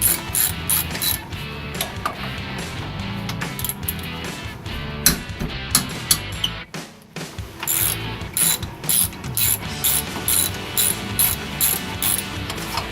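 Ratchet wrench with a 14 mm socket loosening bolts on a 1999 Toyota 4Runner during a third-member replacement, making dense, rapid pawl clicking in repeated bursts, close and loud, with a brief pause midway.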